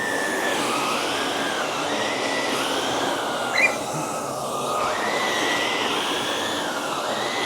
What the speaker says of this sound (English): So I'm going to put it to the least amount of suction and just see how it's going to do on this rug.